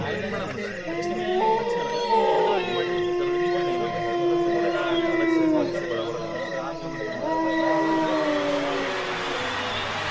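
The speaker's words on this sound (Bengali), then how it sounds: "জঙ্গল থেকে দিনের আলো থাকা সত্ত্বেও সত্যিকারের শিয়ালের দল প্রত্যুত্তর দিল।" A pack of jackals howls from a forest behind a school building in daylight, several wavering, overlapping drawn-out cries rising and falling together at moderate distance, continuous throughout.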